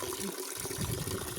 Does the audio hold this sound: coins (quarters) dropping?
no